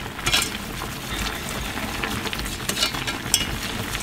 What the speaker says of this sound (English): Make sure that everything is mixed properly.